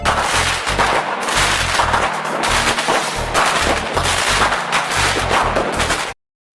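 Fireworks going off in a rapid crackling barrage, dense loud pops and booms repeating without pause for several seconds before cutting off abruptly.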